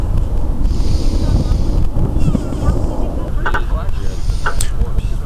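Steady wind of about 4 to 6 knots out of the west buffets a sailboat during a race, producing a constant loud roar of wind noise over the microphone with faint water wash beneath.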